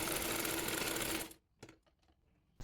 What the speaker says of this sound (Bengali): এবার বডি পার্টের সঙ্গে হাতাটি সেলাই করে নেব।